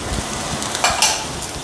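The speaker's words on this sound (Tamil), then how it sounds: "இது எல்லாத்தையும் நல்லா வதக்கிக்கோங்க" Steady close sizzling of cabbage and green chillies frying in a pan, with a few scraping stirs of a utensil.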